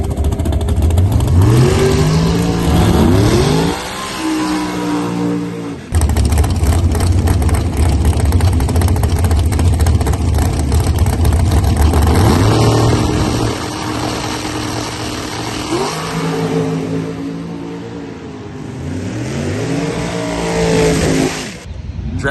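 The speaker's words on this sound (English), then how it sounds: "Dragster run was electric" A dragster roars down the drag strip in a loud, close run: repeated rising engine sweeps as it accelerates through the gears, with a sustained high-power blast in the middle and no talking.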